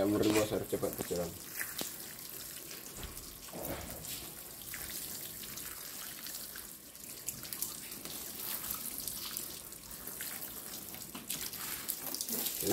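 Water from a hose sprays onto the body of a 2016 Honda Jazz RS during detailing. A continuous hissing spray runs throughout with a few louder bursts, close to the microphone.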